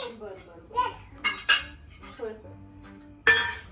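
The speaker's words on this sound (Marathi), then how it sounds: "तुला कोणी सांगितले भांडी लावायला?" A small child stacks and puts away kitchen dishes and utensils, with several sharp metallic clinks and clatters at intervals, the loudest near the end, amid faint household voices.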